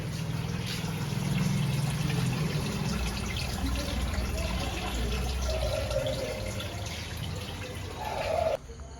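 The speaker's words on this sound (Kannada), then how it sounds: "ಬಾಟ್ಲಿ ನೀರು ತಗೋತಿದ್ದೀವಿ ಫ್ರೆಂಡ್ಸ್." A water bottle filling from a tap at Dharmasthala, a steady close gush of running water that rises in tone, then cuts off near the end.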